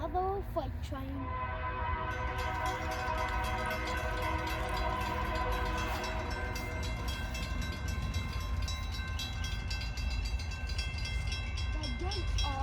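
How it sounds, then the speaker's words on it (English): Freight train rolling past at a rail crossing in Pacific, Missouri, led by a Genesis locomotive, with loud sustained horn blasts over the heavy, continuous rumble of the cars throughout. "Alright guys, here comes another freight train."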